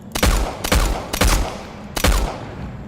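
Four heavy gunshot bursts ring out in a video game, evenly spaced and loud, each with a short rumbling tail.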